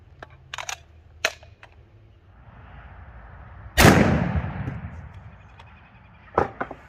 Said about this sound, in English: Let's send the 200 grain XTP downrange.